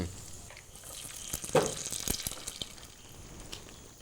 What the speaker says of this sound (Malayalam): നെയ്യിലാണ് അണ്ടിപ്പരിപ്പും മുന്തിരിയും വറുത്തെടുക്കുന്നത്